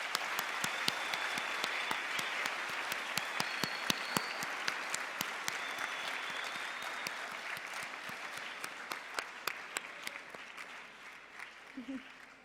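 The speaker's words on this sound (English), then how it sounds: "Let's give him one more round of applause." An audience claps together in sustained applause for several seconds, the sound gradually thinning toward the end.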